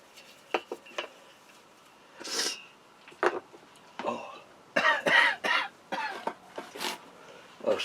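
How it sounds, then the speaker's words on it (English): Several harsh coughs burst out in an uneven series, close to the listener, mixed with throat clearing and a few light clinks of dishes. "sorry about the coughing"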